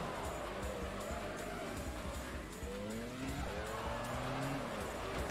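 A Formula-style race car in the PS2 racing game Grand Prix Challenge revs and accelerates with whining engine pitch sweeps and tire squeal, loud and continuous under a faint crowd.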